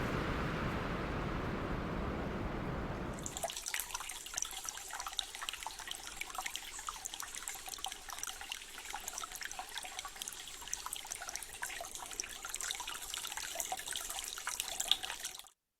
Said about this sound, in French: l'eau d'un ruisseau